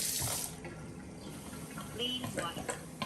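Water runs steadily from a tap through a Kangen water filter into a sink, a continuous splashing hiss that fades slightly, with faint clinks and some background noise.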